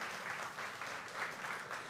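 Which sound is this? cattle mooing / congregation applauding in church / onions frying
congregation applauding in church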